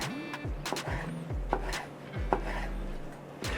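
A knife chops a poblano pepper into half-inch pieces on a board, with several crisp, evenly spaced thuds close up over a low background hum.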